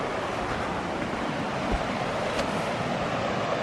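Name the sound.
rising mountain river water rushing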